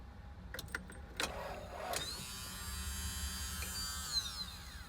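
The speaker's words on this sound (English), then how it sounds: "So the fuel pump does kick on." Electric fuel pump on a Toyota MR2 kicking on during fuel system repair work: a few faint clicks, then a steady, quiet, high electric whine that holds and drifts slightly in pitch.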